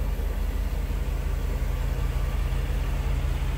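A 1989 Mercedes-Benz 560 SL convertible idles smoothly with a stock exhaust, giving a steady, even low rumble close by throughout, with no talking.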